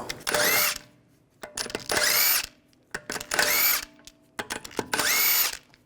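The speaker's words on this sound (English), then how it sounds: "Using a 17mm socket, take the lug bolts out." A power tool with a 17mm socket spins out lug bolts on a 2009-2017 Volkswagen Tiguan wheel in four loud, close whirring bursts, each under a second, separated by short clacks and pauses.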